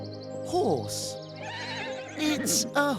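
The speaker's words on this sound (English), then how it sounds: "It's a horse." Horse neighing in an animal sound sequence, with a couple of loud, descending whinnies near the start and end over a steady background hum and music.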